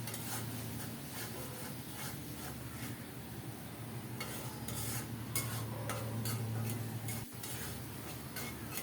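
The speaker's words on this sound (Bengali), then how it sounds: "আরও কিছুক্ষণ কষিয়ে নেব।" Spicy dried fish (chepa shutki) curry cooks down in a pan after a splash of water, with a quiet low sizzle under soft, irregular stirring scrapes and light utensil clinks against the pan.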